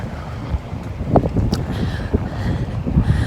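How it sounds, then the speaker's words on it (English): Wind gusts buffet a microphone outdoors on a walk, producing a close, uneven low rumble with bursts of rustling turbulence and no voice over it. "I know it's windy"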